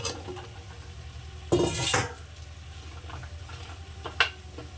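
Fried potatoes stirred into cooked-down masala in a pan for a spicy tangra fish curry: a low sizzle under scraping spoon strokes, with a louder clattering scrape midway and a sharp metallic tap near the end.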